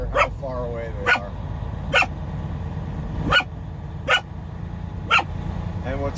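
A dog named Max barks in sharp single woofs roughly once a second, six barks in all, over steady low road noise inside a moving vehicle.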